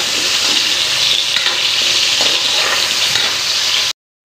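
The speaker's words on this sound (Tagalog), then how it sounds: "Prito muna natin ang patatas para masaya." Potatoes frying in hot oil for a Filipino chicken pastel give a loud, continuous dense sizzle heard up close, unbroken for about four seconds before cutting off abruptly.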